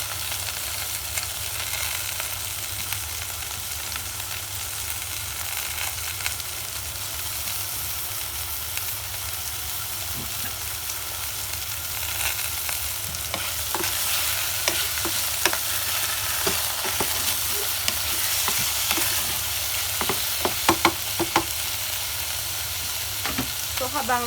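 Onions frying and sizzling in a frying pan after chicken, a steady close hiss with scraping and clattering as they are stirred, growing busier toward the end, no voices.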